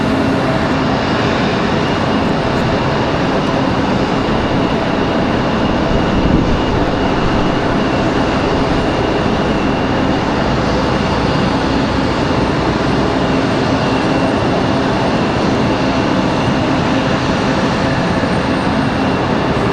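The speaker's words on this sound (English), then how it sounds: "Got Frontier on the move now." A Frontier Airlines airliner on the move at Raleigh-Durham International, giving a loud, continuous broadband engine rumble and hiss that holds steady for the whole stretch with no voices.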